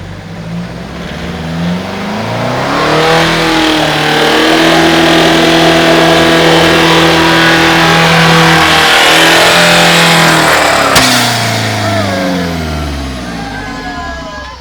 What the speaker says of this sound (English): I let out of the throttle, but it continued to rev to the moon